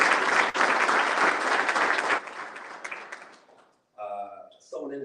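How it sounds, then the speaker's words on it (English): Audience applause at a community action meeting, a dense burst of clapping that tapers off over three seconds, followed by someone speaking. "A round of applause, please, for Thaddeus Harder."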